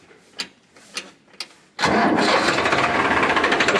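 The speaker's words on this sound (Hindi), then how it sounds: "इसकी आवाज़ जो किसान भाई है कड़क होती है बेहतरीन, क्योंकि इंजन इसका डीजल वाला है, पावरफुल इंजन है" Massey Ferguson 1035 DI diesel tractor: a few faint clicks, then the engine cranks and catches, settling into a loud, steady close-up running rumble.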